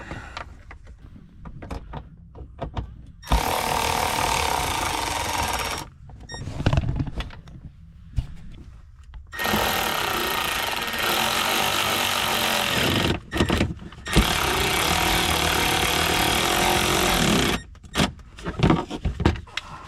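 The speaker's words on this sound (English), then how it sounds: "Put the screws back in." Power driver running screws back into the cover of a mini boat, in several long continuous whirring bursts separated by short pauses and clicks, close by and fairly loud.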